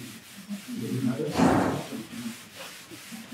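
Cotton pad rubbed firmly over wood, laying down a second coat of hard sealer: a soft, steady scrubbing swell that builds to a louder pass midway, then eases, close up with no talking.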